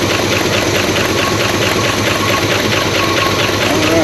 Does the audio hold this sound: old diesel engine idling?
yes